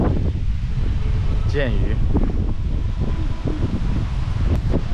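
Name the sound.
wind blowing at the seaside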